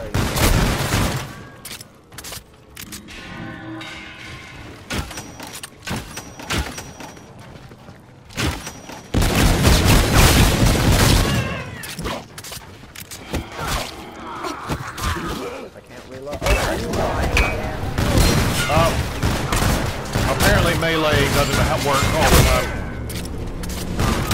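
Loud rapid gunfire in Call of Duty: Infinite Warfare zombies mode, bursts of shots and booms crackling across the whole stretch while players talk over the chaos.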